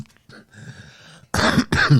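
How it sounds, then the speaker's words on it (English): A person clears their throat softly and then coughs twice in quick, loud bursts, close to the listener. "almost coughed up my lungs"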